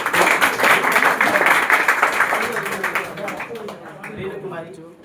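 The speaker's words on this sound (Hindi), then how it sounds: "स्नेहा कुमारी के लिए जोरदार तालियां।" An audience at a coaching centre's student honour ceremony in Bihar claps steadily and loudly, then the applause thins and fades. A voice speaks faintly beneath the final seconds.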